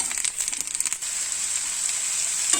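Sliced onion and coconut pieces hit hot oil in a pan, opening with a burst of crackling and rustling for about a second, then settling into a steady, close sizzle with no talking.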